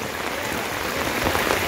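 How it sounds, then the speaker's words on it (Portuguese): Heavy rain pours steadily during a flood in Joaquim Gomes, Alagoas, near the Camaragibe Mirim river, a dense continuous hiss with a voice faintly present underneath. "muita chuva, hein?"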